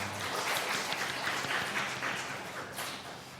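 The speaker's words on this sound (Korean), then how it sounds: "또 축하의 박수 한번 올려드리겠습니다" A church congregation claps together in celebration during a Sunday service, a broad, sustained patter of many hands that stays fairly even and then tapers slightly toward the end, with no talking over it.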